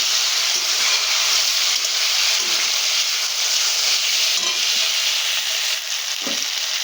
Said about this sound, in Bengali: জল দিয়ে ভালো করে আরও একটু কষিয়ে নেব।